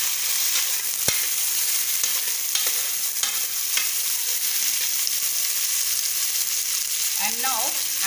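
Cut vegetables crackle and sizzle in hot oil with browned onions while being mixed for pulao, a loud continuous fry with a sharp utensil tap early on and a brief voice-like sound near the end.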